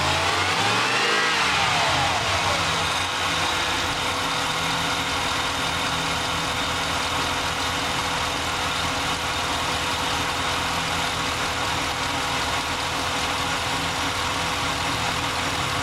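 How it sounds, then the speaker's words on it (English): A Dodge Dakota pickup engine revs up sharply at the start, then settles into a steady, sustained high-RPM drone that holds evenly for the rest of the stretch, close and loud with no voices. "as I accelerate the engine and change the RPM"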